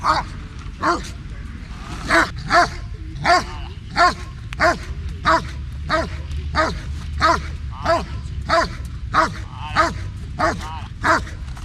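A dog guarding an object barks repeatedly in a steady, rhythmic series of sharp, close barks, sometimes with yips, while a person talks in the background.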